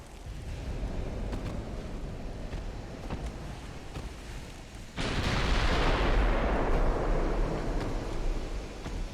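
Warship gunfire in the naval battle game Ultimate Admiral: Dreadnoughts: a low, steady rumble of sea and engines, then a sudden heavy boom that becomes a sustained, loud roar and slowly fades, with no talk.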